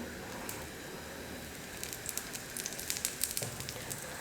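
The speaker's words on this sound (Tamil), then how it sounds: "இப்போ ஸ்டவ்வை வந்து நம்ம ஃபுல்லாக வச்சுட்டு எண்ணெய் வந்து சேர்த்துக்கலாம்" Chicken kari dosai fries in plenty of oil on a hot pan, giving a soft, steady crackling sizzle with scattered small pops that grow busier toward the end.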